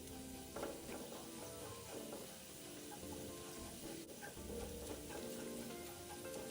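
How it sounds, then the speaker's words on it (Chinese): Sliced red shallots bubble and sizzle softly in deep oil over medium heat, a steady frying hiss with occasional stirring scrapes, no voices. "再将80克小红葱片倒入，中火油炸至金黄色。"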